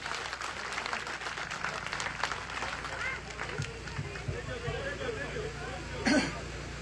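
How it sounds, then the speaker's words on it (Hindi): A crowd at a political rally claps, heard as a faint, fairly distant patter that softens partway through while murmuring voices and crowd chatter continue underneath. "एक बार सभी दोनों हाथ ऊपर उठाएं और जोरदार तालियां हो जाए।"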